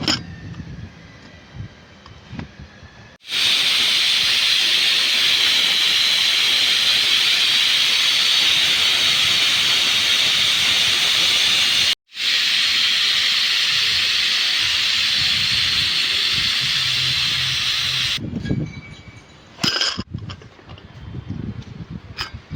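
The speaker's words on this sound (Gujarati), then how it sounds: "કુકરને બંધ કરી અને આપણે 3 સીટી" A pressure cooker boiling pieces of corn in water lets off a loud, steady steam hiss for long stretches, briefly cutting out once and stopping near the end, with no voices.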